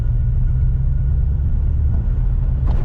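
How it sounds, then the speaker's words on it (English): A 1941 Cadillac Series Sixty with a flathead V8 pulls up from low speed in third gear, a steady, loud, deep engine rumble with no voices over it. "another example of just the beautiful torque that this flathead V8 has"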